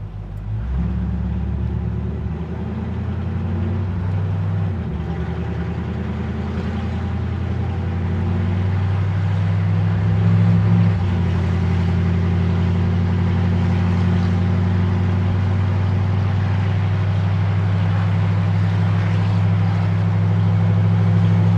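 A 1955 Ford F100 custom truck pulls away and drives on with a loud, steady low engine drone. Its pitch shifts as it gathers speed and then settles into a constant cruising rumble.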